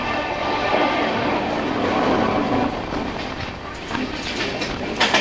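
Amrit Bharat Express sleeper train rolling at full speed through Bardhaman station, a steady rushing roar of wheels and carriages with faint rhythmic clatter toward the end.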